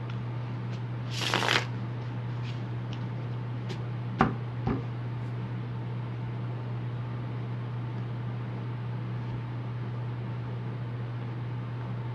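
Lucifer tarot cards riffled in one brief shuffle burst, followed by a couple of sharp knocks as cards are set down, all over a steady low electrical hum in a quiet room.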